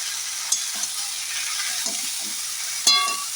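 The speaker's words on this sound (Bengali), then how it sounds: "পটলটা কিছুটা ভাজা হয়ে যাওয়ার পরে হলুদের গুঁড়োটা দিতে হয়" Pointed gourd fries in a pan as turmeric powder goes in, giving a continuous close sizzle broken by two sharp clinks of a stirring utensil against the pan.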